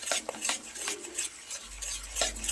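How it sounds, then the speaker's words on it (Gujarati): A spoon stirs sukhdi batter in a pan right after cream (malai) is added, giving soft scraping and light clinks of metal on the pan in an uneven rhythm, close and fairly quiet. "મલાઈ ઉમેર્યા પછી તરત જ હલાવતા રહેવાનું છે."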